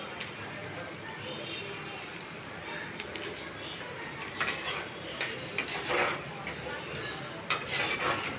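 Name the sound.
stirring dahi chingri prawn curry after adding garam masala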